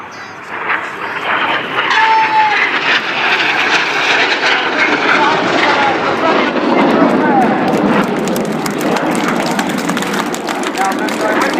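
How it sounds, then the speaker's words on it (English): Red Arrows jets of the RAF display team flying the opposition barrel roll at the RAF Cosford Airshow, heard as a loud, continuous broadband roar that swells and holds steady for the whole stretch. "Watching now as the Synchro pair descend down for their final manoeuvre of the display, and the opposition barrel roll."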